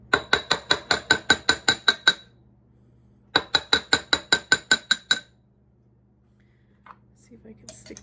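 A metal utensil clinks repeatedly against a glass jar while loosening packed ground ginger, two quick rhythmic bursts of about ten sharp close taps each, separated by a pause with a low hum beneath.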